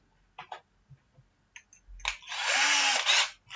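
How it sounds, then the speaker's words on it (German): An electric drill bores a hole in a part for a Bruder MAN TGS model truck: a few short clicks and brief bursts come first, then a loud, steady, close whirring drill run lasting over a second. "Bohren wir auf beiden Seiten hinein."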